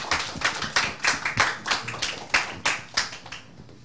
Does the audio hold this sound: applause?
yes